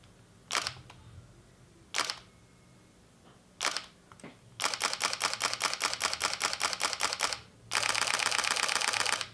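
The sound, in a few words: Fuji X-T2 camera shutter, single release and burst modes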